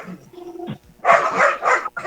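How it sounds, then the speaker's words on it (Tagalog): Several dogs bark in a burst of loud, overlapping yaps and barks after a quieter opening with a faint whimper, rising sharply near the listener. "Ay, mga aso."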